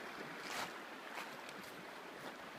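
A river rushes past a bend on the South Mills River in a steady, broadband wash of moving water, with no voices over it.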